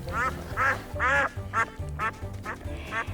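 A duck gives a run of about seven loud, nasal quacks at a steady, bouncy rhythm, close and clear, over a low background hum in a storybook scene of a mother duck and her ducklings on a cliff top.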